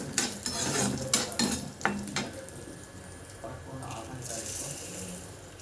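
Chana dal, urad dal, coriander seeds and cumin dry roast in a pan; a spatula scrapes and clinks against the metal in quick strokes early on, then settles into a soft, quieter rustle.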